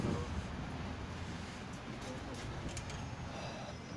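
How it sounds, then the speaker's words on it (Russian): Electric commuter train on Moscow's Savyolovsky line departing near Petrovsko-Razumovskaya in autumn, a steady broadband rumble and wind-like rush that holds level throughout, outdoors with no distinct voices. "Вот, кстати, электричка поехала."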